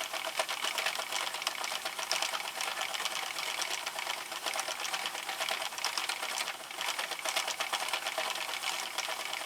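A hand-cranked Sentro knitting machine works Lion Brand Scarfie yarn, producing a dense, continuous rapid clatter of plastic needles and gears that runs steadily for the whole stretch with no talking.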